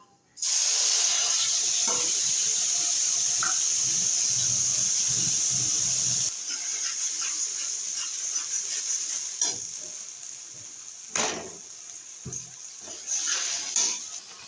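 Mashed taro paste hits hot oil seasoned with nigella seeds, setting off a loud, close hiss that eases after about six seconds into a softer sizzle. Scattered clanks and scrapes from stirring break through it.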